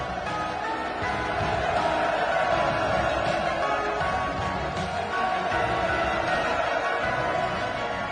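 A large crowd of workers at the Sangwon cement complex roars in sustained, dense cheering that continues unbroken, with a voice faintly present beneath.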